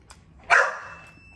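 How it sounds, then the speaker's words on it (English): A single sharp dog bark rings out at moderate distance, followed by a brief fading tail, with faint background noise before and after. "That's my dog in the background too,"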